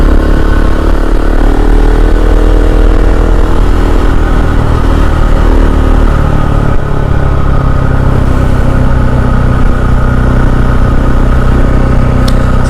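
A KTM 690 SMC R supermoto's single-cylinder engine drones loudly and continuously close up on city streets, holding steady revs with slight rises and dips throughout, no voices over it.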